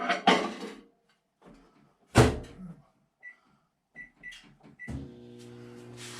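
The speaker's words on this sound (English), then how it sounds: "we're going to go ahead and microwave this" A door clunks shut, a few short keypad beeps follow, and then a microwave starts with a steady low hum.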